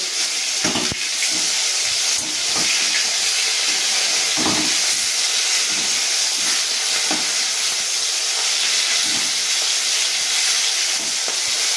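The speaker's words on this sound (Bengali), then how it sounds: "এবার মাছটাকে আমি উল্টে দেবো।" Rohu fish frying in hot oil with dried and green chillies and whole garam masala, a steady loud hiss and crackle throughout, broken by a few soft clunks as the fish is turned over.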